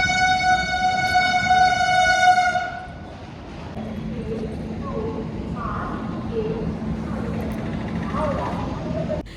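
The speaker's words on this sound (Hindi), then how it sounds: "ये हम लोग चढ़ गए थे ट्रेन।" A passenger train sounds a long, loud horn blast, then rolls on with a steady low rumble and clatter, while people talk nearby.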